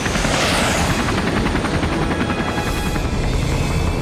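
A loud, steady helicopter-like rotor drone with rapid rhythmic chopping, continuous throughout with no voices.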